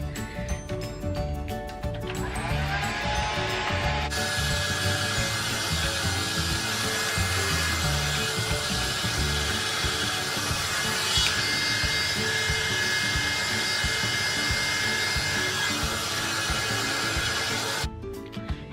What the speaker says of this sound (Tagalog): Magpapatuyo lang ako ng aking buhok.